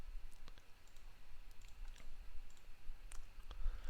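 A computer keyboard clicks faintly as a command is typed on an Ubuntu machine, producing a quick, irregular run of light, close keystrokes over a quiet background.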